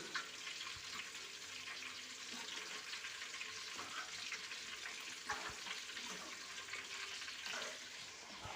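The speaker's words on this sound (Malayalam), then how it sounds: "നമ്മളുടെ ചിക്കൻ ഫ്രൈ നമ്മുടെ തിളച്ച എണ്ണയിൽ മൊരിഞ്ഞുകൊണ്ടിരിക്കുകയാണ്" Steady crackling sizzle of chicken frying in boiling oil, continuous and close, with a few faint clinks and stirring sounds scattered through.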